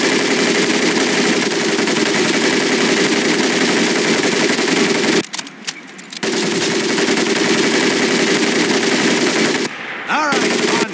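An M1919A4 .30 caliber machine gun fires in Medal of Honor Pacific Assault, a loud, continuous hammering stream of automatic fire broken by two short pauses.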